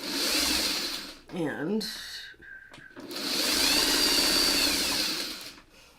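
A sewing machine runs in two long loud bursts, stitching fabric pieces together in rows, with a short pause between them and brief talk in the gap.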